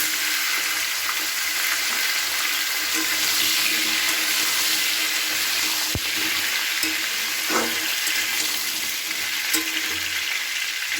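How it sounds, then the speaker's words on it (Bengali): Mixed vegetables go into hot oil for a rohu fish curry, producing a loud, dense, steady sizzle with occasional utensil knocks and stirring scrapes nearby. "এবার আমি সমস্ত সবজিগুলোকে একসাথে দিয়ে দিলাম।"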